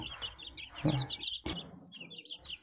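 Guinea fowl cluck and chatter close by in a short run of sharp, repeated calls, with a few higher chirps mixed in.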